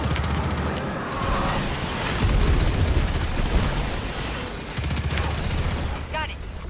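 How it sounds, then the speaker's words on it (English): Enemy explosions and rapid gunfire in the shooter video game Destiny 2, a dense continuous barrage of blasts and shots with booming low rumble throughout. "They're just ridiculous with their explosions."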